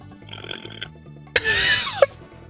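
A loud, drawn-out burp with a growling, grunting edge erupts partway through, ending in a sharp squeak, after quieter background game sounds.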